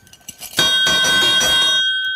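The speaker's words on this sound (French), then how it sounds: "La cloche de l'école était si petite," A small school bell is struck once after a few faint taps and then rings out steadily, loud and close, before slowly fading.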